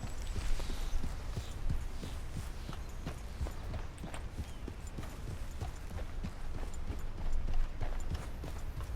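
Horse hooves clip-clop steadily on the ground in the Red Dead Redemption 2 video game, a brisk regular walking rhythm of many close, firm thuds over a low rumbling ambience, with no voices.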